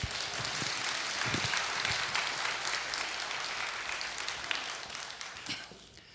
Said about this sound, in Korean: 뜨거운 박수로 맞이해 주세요.